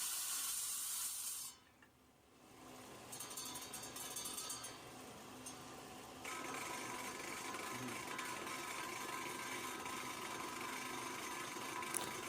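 A rock saw slices through a quartz knob found in glacial till. Its steady whirring hiss briefly drops away near the start, then returns and runs continuously, slightly louder, with no talking.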